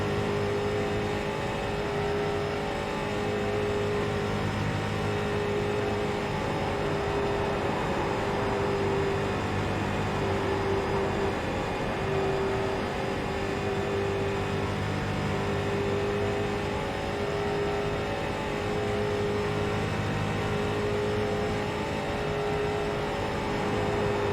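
A street stock car in the iRacing simulator runs a qualifying lap at Charlotte, its engine droning continuously and loud at near-constant pitch for the whole stretch, with no talking.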